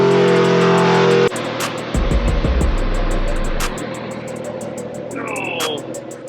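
A supercharged 2021 Roush Ford F150 pickup runs with a low engine drone inside the cab, a deep rising growl under acceleration, and a short supercharger whine near the end, with steady ticking throughout.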